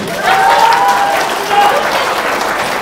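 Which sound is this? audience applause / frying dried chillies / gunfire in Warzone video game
audience applause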